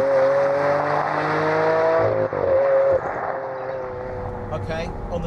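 A Lamborghini Aventador's 6.5-litre V12 drives past on a soaked track, a sustained engine tone that rises in pitch, dips briefly, then settles into a steadier, rougher note as it moves away.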